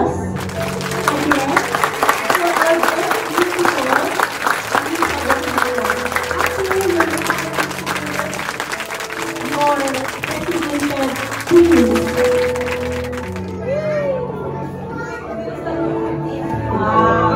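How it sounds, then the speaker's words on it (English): An audience at an 18th birthday celebration gives a round of applause for the representative, a sustained clapping wash that carries on under music and talk, then thins near the end. "As the representative receives a round of applause."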